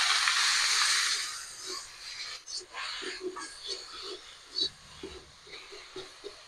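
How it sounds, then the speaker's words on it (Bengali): Leafy beto greens drop into hot oil with fried crushed garlic and black cumin, bursting into a loud sizzling hiss that fades over a couple of seconds into quieter, scattered crackles and stirring sounds. "রসুনটা ভাজা হয়ে গেছে, আমি শাক দিয়ে দিলাম"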